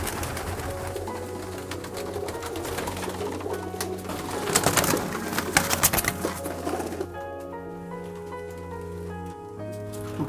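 Racing homing pigeons cooing in their loft, soft repeated coos with a patter of wings and movement in the middle, close by and moderately loud, with no talk.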